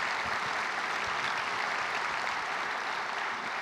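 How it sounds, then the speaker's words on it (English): Keynote audience at Couchbase Connect 2016 breaks into full, dense applause, loud and continuous with no voices over it. "So please, a round of applause for all those guys who worked really hard."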